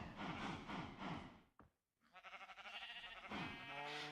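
Sheep on a video game farm bleat in repeated wavering calls, several overlapping and fairly close, with a brief quiet gap before more bleats resume.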